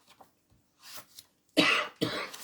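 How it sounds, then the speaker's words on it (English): A few dry coughs from one person, soft at first and then two loud, harsh bursts close to the microphone in quick succession. "Thought this bloody cough had gone, but it's so dry."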